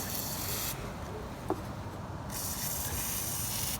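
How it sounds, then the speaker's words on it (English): Penetrating spray hisses steadily from an aerosol can onto a stripped engine bolt during a Hemi R/T piston change, two loud continuous bursts close by with a brief pause and a small clink between them. "I'm gonna spray that anyways"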